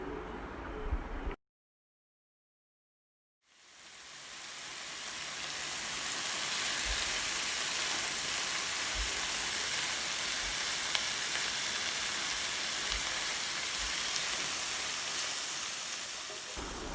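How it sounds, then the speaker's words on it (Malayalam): Chopped tomatoes and green chillies fry in hot oil for a fish tawa curry. After a short sound and a silent gap, a loud, steady crackling sizzle swells up and holds close by, alone and without talk. "അതിലേക്ക് ഒരു 3 പച്ചമുളക് അരിഞ്ഞതും കൂടി ഇട്ട് നന്നായിട്ട് വഴറ്റിയെടുക്കാം"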